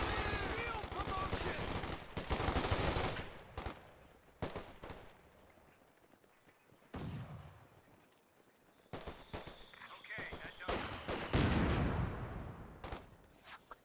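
Machine gun fire in Company of Heroes 2 rattles in long, dense bursts, heavy at the start and again in the second half, with sharper single shots and quieter gaps between the volleys.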